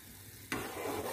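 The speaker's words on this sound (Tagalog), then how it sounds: "Ito na guys, kumulo siya." Sugar syrup in a pan suddenly breaks into a close, hissing, bubbling boil that stays dense and steady after a quiet start.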